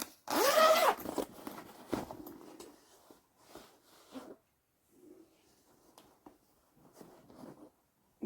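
A zipper being pulled open, a loud rasping burst at the start followed by a few quieter scratches and rustles, close by, with no talk.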